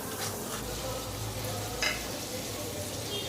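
Salted potatoes with freshly chopped onion fry in a pan, giving a steady close sizzle with a short stirring scrape partway through and no talking.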